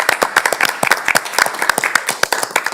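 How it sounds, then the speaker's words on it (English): A small group at a county commissioners' board meeting applauds Bo and Aaron, with close, loud, distinct claps in a brisk, uneven patter. "we should just give them an extra round of applause for all their prep"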